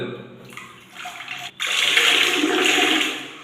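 Warm garlic-infused liquid pours into a toilet bowl, a short trickle followed by a steady, rushing splash that fades slightly near the end.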